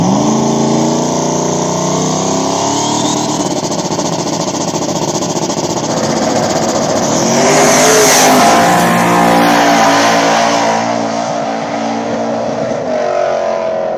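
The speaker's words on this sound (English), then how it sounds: "Nitrous Mustang taking on this Gangster Turbo Camaro." Nitrous Mustang and turbo Camaro small-tire drag race on an Ohio track, engines roaring loud and continuous, swelling into a hard full-throttle pull midway then easing as the cars run off.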